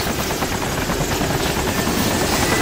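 Mi-17 helicopter in the video game DayZ, heard from inside the cabin as a loud, constant rotor and engine roar with a steady rapid thudding beat, no voices over it.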